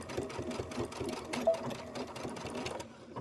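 A sewing machine with a walking foot back stitches in a quick, close, steady mechanical patter of needle strokes, then stops abruptly near the end.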